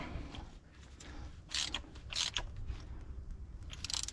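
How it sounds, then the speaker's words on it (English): A ratchet wrench turns a spark plug on a Triumph Spitfire 1500 engine, giving close, dry metallic clicking and grinding in short bursts over a low background rumble, with no talking. "get it back onto the ratchet."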